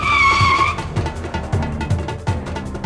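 A car brakes hard to a stop, its tires letting out a loud, high squeal for under a second, followed by a rough low engine idle and scattered knocks, close up, with no speech.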